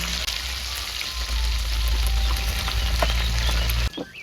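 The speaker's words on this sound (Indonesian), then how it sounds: "Ini goreng tempe" Pre-simmered tempeh pieces frying in hot oil in a home kitchen give a steady, loud, dense sizzle with crackling pops throughout, cutting off sharply near the end.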